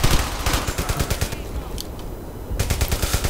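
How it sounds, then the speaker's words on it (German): Rapid bursts of automatic gunfire in the video game Brothers in Arms: Hell's Highway, a pause with a couple of single metallic shots, then another sustained burst of rapid fire. "Connor, weiter schießen!"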